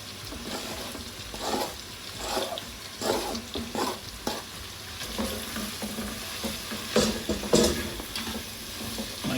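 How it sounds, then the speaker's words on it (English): Onions cooking in butter for French onion soup sizzle softly in a pan while being stirred, with irregular scraping strokes and louder bursts of frying, no speech. "Give them a nice stir, and we're going to cook those until they're really soft."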